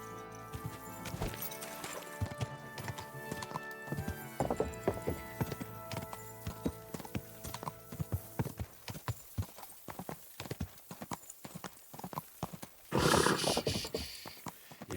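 Horse hooves clip-clop steadily in the medieval video game Kingdom Come: Deliverance II, a close rhythmic patter of clops with a brief whinny-like burst near the end.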